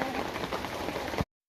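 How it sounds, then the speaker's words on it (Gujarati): Rain falling outdoors during a monsoon outing, a soft, even patter of drops held at a steady low level, then cutting off abruptly. "અત્યારે તો વરસાદ ચાલુ થઈ ગયો છે"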